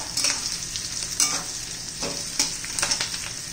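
Onion sizzles gently in a pan for soybean chilli while a spoon stirs it, producing soft frying crackle and repeated scraping strokes up close, with no talking.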